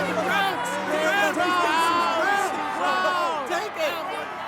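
A loud crowd roars and shouts together in a dense, continuous swell of voices, close and sustained throughout.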